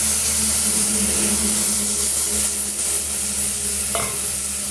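Hand-crushed tomatoes, two medium ones, go into a simmering crab soup pot and are stirred in, giving a steady close sizzle and bubbling hiss with soft scraping throughout, no voices.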